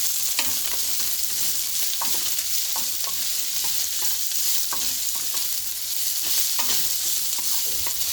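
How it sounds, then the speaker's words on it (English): French beans and broccoli stems stir-fry in a pot with a constant sizzle and regular scraping strokes of a spatula, close and clear, with no talking. "French beans and the stem of broccoli, because I think they're going to take some time to cook. And just stir fry it nicely."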